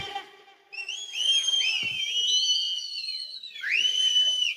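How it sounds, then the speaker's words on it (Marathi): Shrill, wavering whistles from an audience at a Lavani dance performance ring out loudly in long sliding notes, pausing briefly before another burst rises near the end. "काय शिट्टी वाजवतो"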